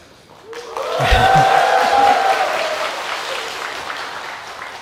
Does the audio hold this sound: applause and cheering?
yes